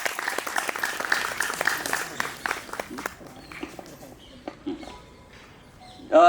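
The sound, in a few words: loud applause at celebration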